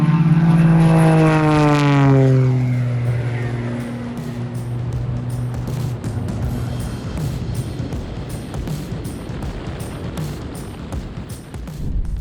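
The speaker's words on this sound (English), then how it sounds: "That's the 315 horsepower single-seat aerobatic airplane." Extra 330SX, a 315-horsepower single-seat aerobatic airplane, roars past loud and close, its propeller engine tone sliding downward in a clear Doppler drop before settling into a steady fading drone.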